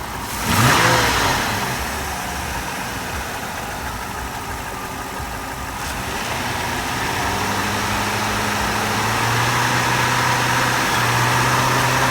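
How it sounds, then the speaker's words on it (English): A donated sedan's engine at a salvage auction lot starts and then idles and revs steadily, with a possible carbon knock. A loud burst at the start gives way to a continuous engine drone that slowly builds. "I thought for a minute I heard a knock, but it almost sounds like a carbon knock"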